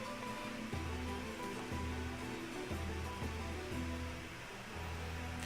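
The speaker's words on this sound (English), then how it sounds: "There I go, swimming." Swimming through water in Shroud of the Avatar: a steady, loud wash of splashing and churning water with rhythmic low surges, continuous and close, no voices.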